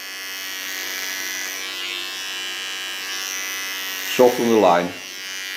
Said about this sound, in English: So take a clipper.